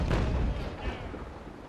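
Ship's cannons fire a chain-shot broadside in the Naval Action naval warfare game, one heavy booming blast up front followed by a rumbling decay.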